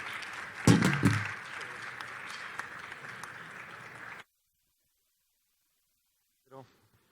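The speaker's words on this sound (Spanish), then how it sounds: "un fuerte aplauso para nuestros ponentes" Applause rises from a congress audience for its speakers at a healthy-gastronomy and food-safety event, moderately loud clapping over room noise with a louder burst near the start, stopping abruptly into silence, and a brief voice follows.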